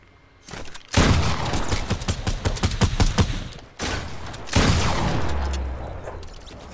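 Dense, rapid automatic gunfire from a video game roars up close in two long bursts separated by a brief pause, loud and sharp with no talk over it.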